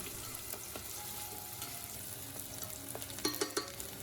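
Diced onion sautés in olive oil in a pan over medium heat, giving a faint, steady sizzle with a few light stirring clicks and scrapes.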